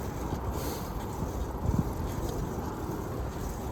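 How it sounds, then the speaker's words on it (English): Wind rushing steadily across the microphone while riding in cold weather, a dull constant roar with a slight gusty thump near the middle. "because I feel that wind right in my face"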